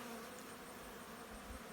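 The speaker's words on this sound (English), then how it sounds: "I don't know why the bees are on them" Faint, steady buzzing of honeybees around honey supers, continuous and low-level, with no voices.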